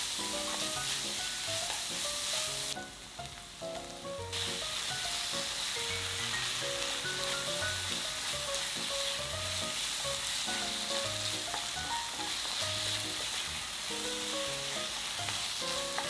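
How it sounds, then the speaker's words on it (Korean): Pork stir-fried in a pan with sliced onion, cheongyang chili and red chili peppers gives off a loud, steady sizzle that continues for the whole stretch with no talking. "고기가 어느 정도 다 익으면 잘라놓은 양파 넣으세요. 청양고추, 홍고추도 모두 넣고 볶아주세요."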